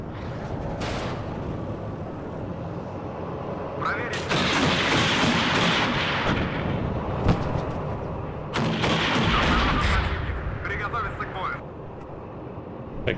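Gunfire and artillery from the military strategy game WARNO thump and crack in heavy, continuous waves, rising into louder barrages at times, while someone talks over the battle.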